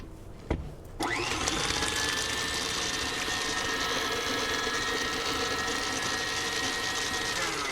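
After a short clatter, a food processor or mixer starts up and whirls Christmas cookie bar batter in one loud, continuous motor whine that holds steady to the end.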